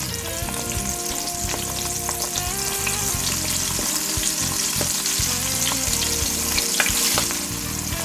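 Large seasoned shrimp fry in hot grease, giving a steady, close sizzle with crackling pops and a few clinks of utensils throughout, with no talking.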